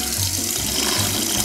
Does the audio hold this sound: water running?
yes